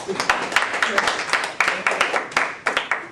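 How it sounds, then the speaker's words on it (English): Scattered applause from a small classroom group, with distinct individual claps in an uneven, fairly thin rhythm that stays moderately loud throughout. "I need more round of applause."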